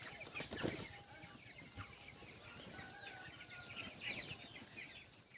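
Fifteen-day-old broiler chickens on straw bedding cheep and cluck faintly across a large flock, a soft continuous chatter with scattered rustling and a brief flap near the start.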